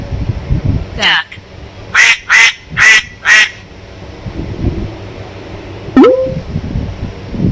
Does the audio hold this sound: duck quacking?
yes